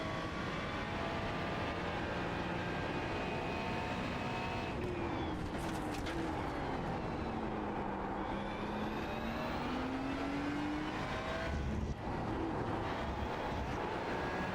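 A Ferrari GT3 race car laps Hockenheim in iRacing, its loud engine droning continuously up close, the pitch falling and climbing through gear changes and braking zones.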